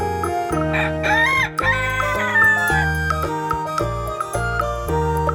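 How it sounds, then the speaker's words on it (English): A rooster crows loudly and clearly over a steady bed of children's music, its drawn-out call rising and falling once through the middle of the clip. "This is a rooster."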